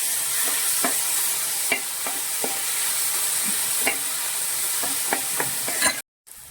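Tomatoes stir and fry in a pan of chicken masala, a steady sizzle under repeated sharp scrapes and clacks of a spoon against the pan, close and alone without speech.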